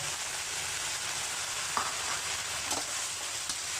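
Crispy pork is stir-fried in a hot pan over high heat, producing a steady, even sizzle with a few light stirring clicks throughout.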